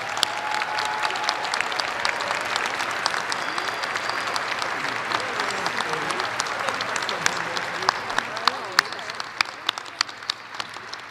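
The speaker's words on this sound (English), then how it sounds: "Let's have one more round of applause for all our new master's degrees." Sustained applause from a large university commencement audience for new master's graduates, steady clapping that thins toward the end with some individual claps standing out.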